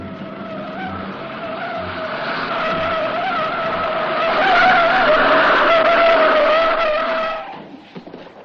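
Tires squeal in a long, loud skid during a 1960s movie car chase, a steady high screech that swells and then cuts off abruptly, followed by a few faint knocks.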